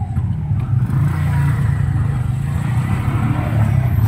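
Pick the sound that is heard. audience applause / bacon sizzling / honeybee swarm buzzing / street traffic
street traffic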